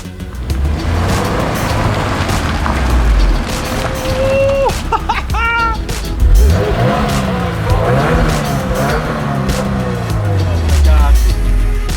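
A 271-horsepower Porsche Boxster with a manual gearbox drives along, its engine droning steadily, the pitch rising and falling as the gears change, while someone talks over it off and on.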